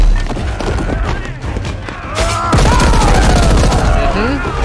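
Loud shotgun blasts in the video game Paint the Town Red burst out amid chaotic fighting, a dense volley of booming shots with voices shouting over the action.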